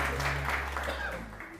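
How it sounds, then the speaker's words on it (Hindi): A studio audience on a TV morning show applauds in a short, steady burst of clapping with a low hum running beneath it. "तालियां प्लीज।"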